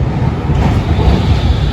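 A tram runs at a night tram stop in Sofia, Bulgaria, giving off a steady, loud rumble and rail noise throughout, with no voices heard.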